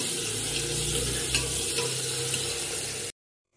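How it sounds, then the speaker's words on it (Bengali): Tomatoes go into a pot of cooking dal, giving a loud, steady sizzle with watery bubbling that runs for about three seconds and then stops abruptly. "চলো এখন টমেটোগুলো দিয়ে দেবো।"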